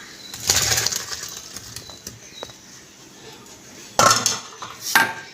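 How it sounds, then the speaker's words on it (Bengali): Pots and metal utensils clatter as boiled soybeans are lifted off the stove into a bowl, loud clanks at the start and two more near the end, with quieter scraping in between. "সয়াবিনটা সিদ্ধ হয়ে গেছে, নামিয়ে নেব একটা বাটিতে।"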